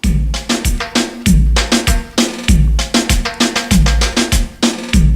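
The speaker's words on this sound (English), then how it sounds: "the one that's labeled dembow original sounds like this." Original dembow reggaeton drum loop with punchy booming kicks and crisp snare hits in the classic syncopated pattern, repeating steadily and loud with no voices.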